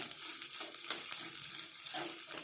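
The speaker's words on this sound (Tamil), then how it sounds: "ஒரு மூடி தேங்காய் தான் கட் பண்ணி எடுத்து வச்சுருக்குறேன் இப்போ நல்லா வறுத்து எடுத்துக்கலாம்" Cut coconut pieces frying in ghee give a steady, close hiss and crackle that holds at an even level with small popping flickers throughout.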